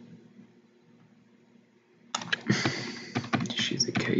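Quick, uneven keystrokes and clicks on a computer keyboard start after two quiet seconds and carry on close and clear, a busy clatter of taps with no voice over it.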